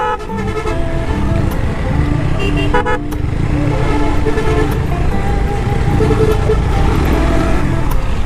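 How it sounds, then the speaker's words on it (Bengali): Congested road traffic with car horns honking repeatedly, engines rumbling close by and several toots overlapping in a busy jam. "সব জায়গা শুধু জ্যাম আর জ্যাম"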